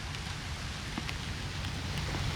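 Steady rain falls in a cemetery among stone monuments, a continuous broadband hiss of drops with a low rumble, evenly loud throughout and with no voices.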